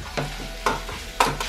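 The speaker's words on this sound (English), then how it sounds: "Look at that bacon sizzle" Bacon sizzling while frying in a pan gives a steady crackling hiss, with three sharp scraping stirs and a spatula breaking it up, close and alone.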